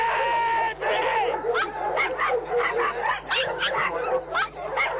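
Yorkshire terriers serving as police dogs bark and yip in quick, high-pitched bursts, close and fairly loud, over a steady low background hum.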